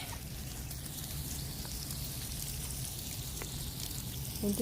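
Water trickles and spatters onto garden flowers at home, a soft, steady pattering like light rain on leaves and soil, fairly quiet and continuous with a faint background hum.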